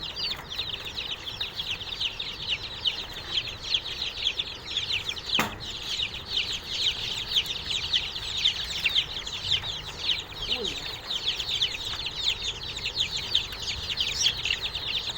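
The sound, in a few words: Asil chicks, 20-25 days old, fighting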